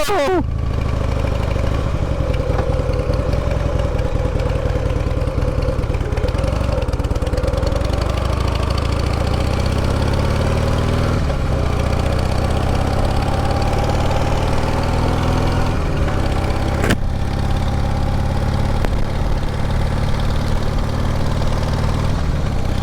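Motorcycle engine running steadily nearby for the whole stretch, a constant loud mechanical drone with a rough, knocking pulse, with a rider talking over it.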